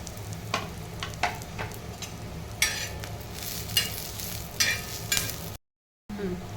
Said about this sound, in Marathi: आता आपण त्याच्यात धणे टाकू. धणे भाजून घेऊ.